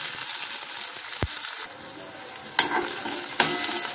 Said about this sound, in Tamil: சோம்பு நல்லா பொரிஞ்சோடனே வெங்காயம் நறுக்கி வச்சு வெங்காயத்தை போட்டுக்கலாம்